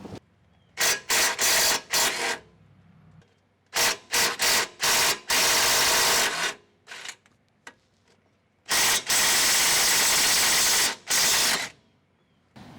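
Ratchet removing 17 mm bolts from the suspension of a 2003 Toyota Camry 2.4L during ball joint replacement, loud close bursts of rapid clicking in several runs separated by short pauses, with no talking.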